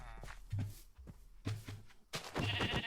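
Sheep bleating in a village-building video game, several short bleats at a moderate level spaced through the clip, with light footstep-like thuds between them.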